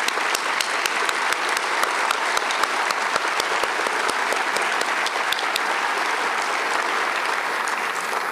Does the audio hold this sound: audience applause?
yes